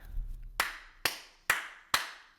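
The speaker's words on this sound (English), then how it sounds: "Clapping for those who traded this" Four sharp, evenly spaced hand claps ring out alone at close range, each with a short decaying tail, following a brief low rumble.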